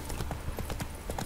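Horse hooves clip-clopping in The Witcher 3: Wild Hunt, a quick steady run of close, distinct hoofbeats.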